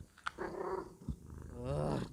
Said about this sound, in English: your cat's busy howling at the back